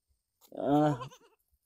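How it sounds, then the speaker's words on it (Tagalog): A single short bleat from a young goat, close and clear, rising then trailing off in a quiet setting. "Ito yung anak ng ating kambing na sinin."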